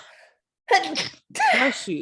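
A single sharp sneeze bursts out close and loud during a casual conversation, followed at once by a person talking.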